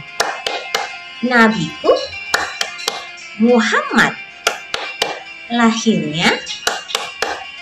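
Rhythmic hand clapping in a chanted children's religious lesson, sharp claps in a steady pattern woven between bursts of a woman's sung speech, close and clear.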